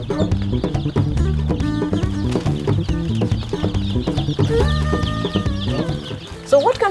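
Chicks in a brooder cluck and peep busily with overlapping calls, close and loud, with a few higher chirps near the end and little speech.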